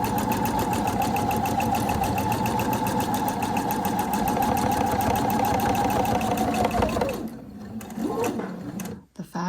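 A sewing machine stitches quilting fabric with a steady, fast, humming run of needle strokes, close and loud, before slowing and stopping near the end with a few handling noises.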